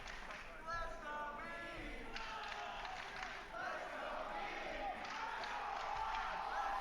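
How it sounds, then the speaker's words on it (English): Crowd at a Tetris tournament, the Classic Tetris World Championship 2025, roaring and chanting in a steady, dense wash of many voices, with bursts of yelling and cheering rising above the hall noise throughout. "There's that crowd, yep."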